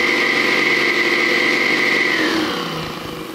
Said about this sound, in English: it's not a motor right now. It's a saw bench.